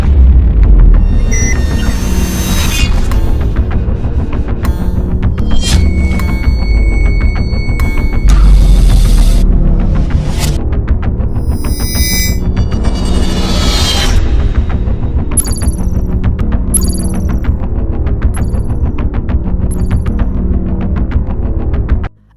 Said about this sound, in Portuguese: Roda a vinheta!